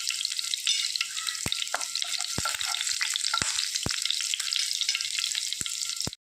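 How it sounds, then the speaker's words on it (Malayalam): Sliced shallots frying in a pan for Kerala-style horsegram kanji, a steady bright crackling sizzle throughout with a few sharp pops and light utensil taps. "ഉള്ളിയൊക്കെ നന്നായിട്ട് മൂത്ത് വരുന്നുണ്ട്"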